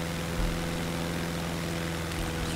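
A Robin DR260 160 Capitaine propeller aircraft engine in a flight simulator, droning steadily and close in a constant low hum with a strong tonal buzz, unchanging throughout with no voices.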